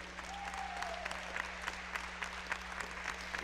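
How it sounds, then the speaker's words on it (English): Applause for a senior basketball player at a Rose-Hulman home game, steady moderate clapping from the arena crowd, with a faint tone and a low hum underneath. "Let's have a round of applause for Michael Lake."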